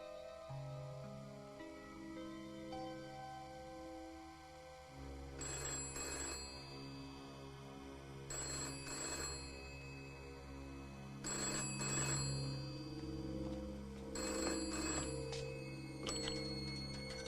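A telephone bell rings in repeated short bursts, about five rings spaced a few seconds apart. It sounds over quiet sustained background tones, fairly faint overall, with no talking.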